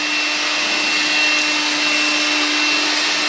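A Makita cyclone vacuum attachment sucking up sawdust gives a loud, steady, close whirring roar with a constant motor whine and no pauses.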